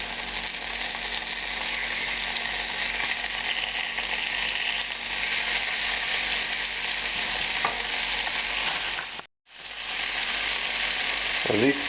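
Thin pieces of veal frying in a hot pan, making a steady loud close sizzle that runs continuously, briefly cuts out, then resumes, with no talking.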